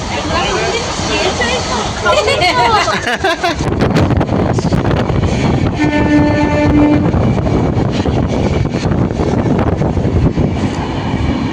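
A train rumbles along loudly and steadily, with rattling wagons and wind buffeting the microphone, while people chatter in the background.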